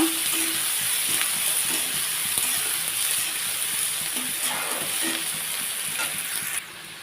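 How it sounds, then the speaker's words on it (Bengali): Pointed gourd (potol) with garlic frying in hot oil, a dense, steady sizzle close by with irregular stirring scrapes and clinks of the utensil against the pan. "এখন এই দিয়ে আমি আবারও ভালোভাবে প্রায় পাঁচ সাত মিনিটের মতন নাড়াচাড়া করে লাল করে ভেজে নেব"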